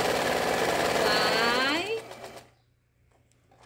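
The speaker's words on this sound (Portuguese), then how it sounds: "Vamos costurar, pode costurar em cima do risco." A sewing machine stitches a bird design along a drawn line on fabric, running in a fast, even whir close by for about two seconds before stopping. A brief spoken word comes near the end.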